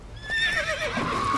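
A horse in the video game The Witcher 3 lets out a single short, close whinny that rises and falls, alone without talking.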